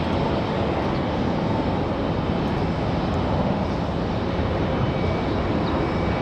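A JetBlue jet airliner from Fort Lauderdale at Raleigh-Durham airport gives off a loud, steady broadband engine roar that holds evenly with no voices.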